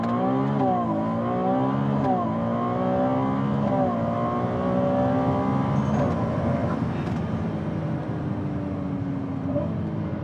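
A Ferrari 296 GTB hybrid accelerates hard in qualifying mode on public roads, its loud engine note climbing steadily through rising pitches with brief dips at gear changes, continuous and close from start to finish.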